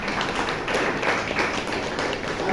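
Applause from the audience at a Toastmasters club meeting in Bangalore: a steady, dense wash of many hands clapping together for a few seconds at moderate loudness, with no talking over it.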